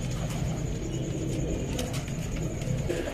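Domestic pigeons kept for sale coo softly in a steady low murmur, with faint chirps and rustling mixed in. No voices are heard.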